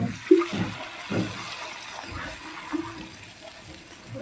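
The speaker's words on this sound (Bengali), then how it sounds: "এবার জল দিয়ে দিচ্ছি দেখো" Water poured into a cooking pan for a pomfret fish curry, a short gushing splash with a few soft bursts, close and fairly clear with no talking.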